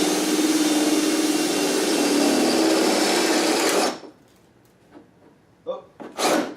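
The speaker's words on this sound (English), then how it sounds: "Might actually help out here with the drill being a bit more lubricated." A drill bores through a race car hood for hood pins with a loud, steady high-speed whine that cuts off after about four seconds. Brief clatter and faint knocks follow in the quiet.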